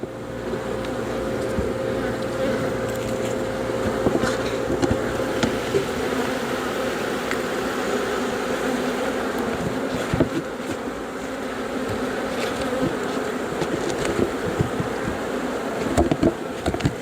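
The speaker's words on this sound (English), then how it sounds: "You hear the bees?" A dense, continuous drone of honeybees fills the air at an opened horizontal hive during inspection, close and steady, with occasional individual bees zipping nearby and soft handling taps.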